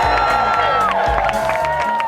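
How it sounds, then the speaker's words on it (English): Outdoor crowd cheering and whooping at the start of Climate Camp 2009, a protest encampment, with loud sustained voices and scattered clapping throughout. "Let me hear a massive cheer for getting Climate Camp 2009 started!"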